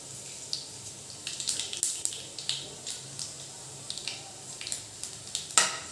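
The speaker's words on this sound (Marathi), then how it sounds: "मोहरीला इथे छान तडका आला पाहिजे" Mustard seeds and curry leaves crackling in hot oil in a kitchen pan over a low gas flame, with sharp irregular pops and spits over a soft sizzling background, close and fairly quiet.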